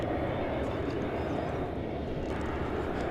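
Airplane engines rumble continuously at DFW airport on a cold early spring morning, a loud, steady low roar across the whole stretch with no pauses.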